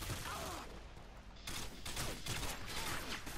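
Gunfire in Call of Duty: Modern Warfare 2, dense continuous shots that intensify partway through, with talk mixed in under the shooting.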